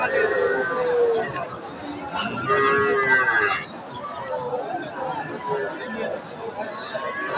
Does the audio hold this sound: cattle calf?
yes